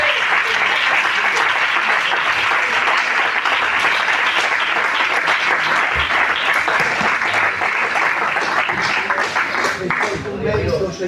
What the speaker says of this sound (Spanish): ¿Puedes dar un aplauso a la palabra del Señor?